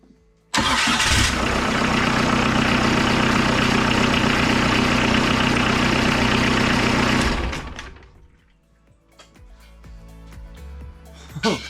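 A Kubota V2403 diesel engine in a right-hand-drive TJ Wrangler fires up abruptly and runs loud and steady for about seven seconds, then drops away, leaving quieter faint knocks and rustles.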